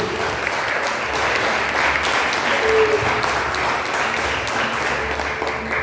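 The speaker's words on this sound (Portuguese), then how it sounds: "Aplauda o Senhor em nome de Jesus." A church congregation applauds together during a revival service, a dense, sustained wash of clapping that holds at an even, fairly loud level throughout.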